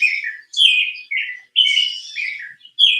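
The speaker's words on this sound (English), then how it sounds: "That's a robin." A robin's call played back from a bird app recording, clear repeated whistled chirping phrases in short bursts separated by brief pauses, fairly loud and close, no voices.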